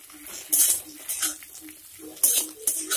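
Potatoes and onions are stirred and fried in a pan, with a utensil scraping and clattering against the metal in irregular bursts over a soft sizzle.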